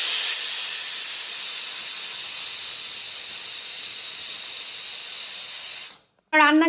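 A pressure cooker whistle hisses in a long, loud, steady jet of escaping steam while meat cooks, cutting off abruptly near the end before a voice speaks.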